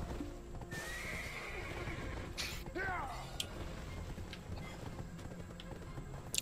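In the Black Desert Online video game, a horse gives a quavering neigh near the middle over a steady patter of hooves and clattering battle noise, with voice chat faintly underneath.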